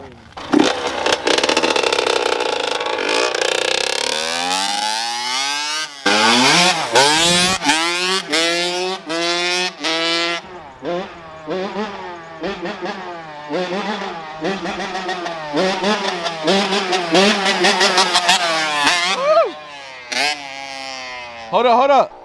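A two-stroke dirt bike engine revving hard again and again, sharp rising and falling bursts with brief gaps, loud and close, while people talk over it.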